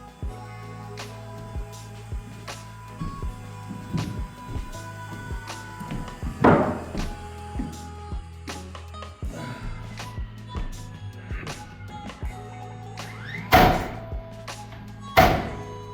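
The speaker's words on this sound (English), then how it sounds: "this is nailing" Nails are driven into wood during a renovation of a rotten, abandoned house, giving irregular sharp thunks and a few louder strikes amid quieter knocks and handling sounds.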